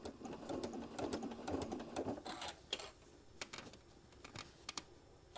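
A home sewing machine runs in short bursts of rapid stitching through fabric, close and fairly quiet, with brief pauses and small clicks between runs.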